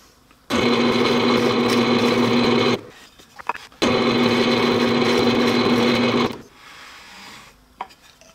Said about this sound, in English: we're going to drill this hole and then spin it 180 degrees